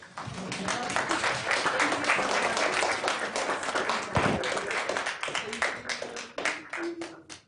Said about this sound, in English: You can go ahead and keep clapping.